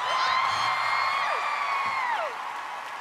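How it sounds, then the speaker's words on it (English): A studio audience at a televised singing talent-show audition cheers and whoops, a loud sustained roar threaded with rising and falling whoops lasting about three seconds before easing slightly. "The crowd likes that."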